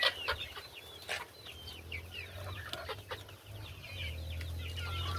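Chickens clucking in a bamboo coop on a windy day, a scatter of close, repeated clucks and squawks over a low constant rumble.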